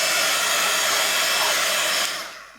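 A hair dryer blows steadily and loudly on a craft clock made from a vinyl record decorated with cabochons, a continuous broadband whoosh that tapers off as it is switched down near the end.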